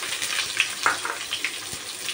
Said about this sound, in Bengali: এখন আমি এখানে দিয়ে দেব যে পেঁয়াজটা কেটে রেখেছিলাম সেই পেঁয়াজটা,